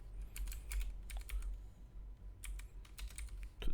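Bursts of typing on a computer keyboard, quick clustered keystrokes with short pauses between, fairly close and clear over a low steady hum.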